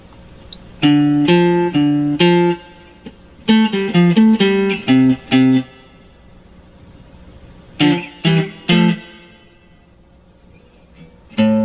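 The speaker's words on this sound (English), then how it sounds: "we're going to play a second guitar part that'll sound like this" An electric guitar plays a second part of a song, short groups of clean plucked notes bouncing between two pitches, with brief silences between the phrases.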